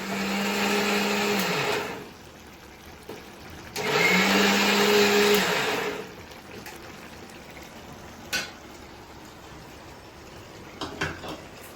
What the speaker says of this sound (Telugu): ఒక్క తిప్పు మిక్సీ తిప్పేసుకుంటే అయిపోతుంది